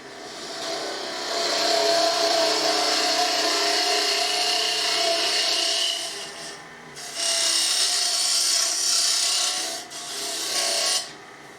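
A wood lathe hollows out a small wooden box as the tool scrapes and rasps steadily against the spinning workpiece, with two short pauses between passes and no voices.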